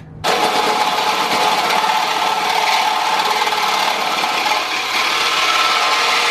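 A hole saw bites through thick steel for an air compressor tank, a loud, continuous harsh grinding screech that starts abruptly and holds steady for several seconds, close up with no voices.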